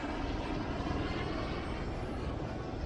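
A helicopter passes over the Melbourne Home Show and Tiny Home Expo in the city, a steady, moderately loud rushing rotor and engine roar with no speech.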